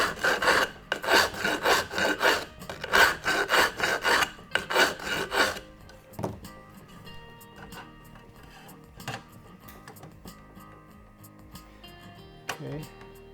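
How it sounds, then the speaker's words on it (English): A hand file rasps across a bicycle frame tube in about a dozen quick, loud, rhythmic strokes. Quieter scraping and a couple of faint knocks follow. "If I do a little bit of filing on the bottom"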